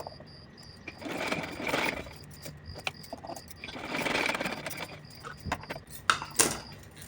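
A sewing machine stitches a small summer dress for a Kanha ji idol, running in several short bursts of rapid mechanical clatter separated by brief pauses, close and moderately loud.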